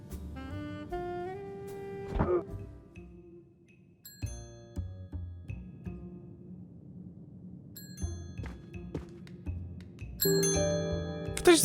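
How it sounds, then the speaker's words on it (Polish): Chiming bell tones from the Agatha Christie Murder on the Orient Express video game sound in several separate bursts. The ringing tones sit over soft game music, and a louder cluster comes near the end. "Ktoś dzwoni."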